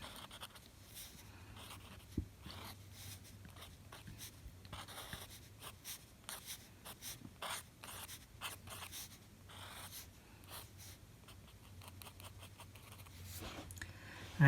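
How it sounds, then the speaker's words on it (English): A pen or pencil draws a cartoon on paper with quick, scratchy strokes and taps in irregular bursts, faint and close, over a low steady hum, with no talking. "Draw that in really quickly."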